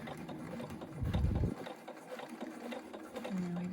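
Sewing machine stitching a pillow seam with a 1/2 inch seam allowance, a short burst of rapid motor-driven stitching near the start, followed by quieter handling sounds.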